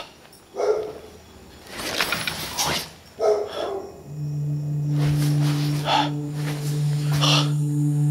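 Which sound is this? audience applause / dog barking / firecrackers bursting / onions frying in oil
dog barking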